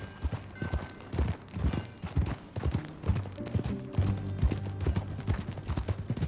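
Horse hooves clip-clopping in Red Dead Redemption 2, a steady rhythmic walking gait of repeated hoof strikes, fairly close and moderately loud, with faint background ambience and no speech.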